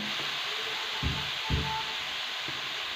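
Fenugreek and coriander sizzle steadily in a hot pan for a mixed cauliflower sabzi, a soft, even hiss with a few low thumps as the spices are stirred.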